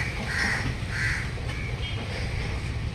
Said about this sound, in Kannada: ಇಲ್ಲೆಲ್ಲ ಕಾಗೆಗಳೇ ಜಾಸ್ತಿ